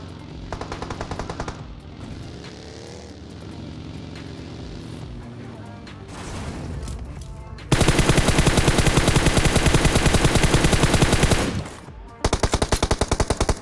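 Rapid automatic gunfire bursts in PUBG Mobile crackle loudly over a dense mix of engine drone and game effects, with a short gap before a final burst.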